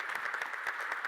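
Brief, fairly faint applause from an audience at a quantum technology event in Helsinki, many hands clapping at once.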